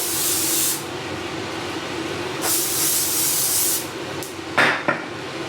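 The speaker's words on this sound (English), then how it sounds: "What we're gonna do is a little more hairspray." Hairspray from an aerosol can hisses onto curly styled hair in bursts: a long spray, a pause, a second long spray, then a few short quick puffs near the end, close and fairly loud.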